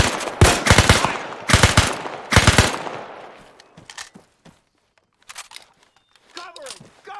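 Loud bursts of automatic gunfire in Arma 3 Spearhead 1944, a WW2 combat game: three heavy rapid volleys in quick succession, then scattered fainter shots and clicks, with voices calling out nearby.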